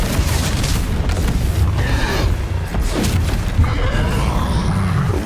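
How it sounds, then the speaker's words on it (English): A Bombarda blasting spell in Hogwarts Legacy, heard as a loud, sustained rumbling explosion with crashing debris that stays heavy and dense throughout. "Bombarda, I need to learn that spell."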